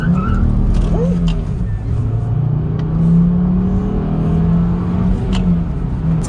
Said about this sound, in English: the tires are a little flat spotted and we're trying the brakes out right now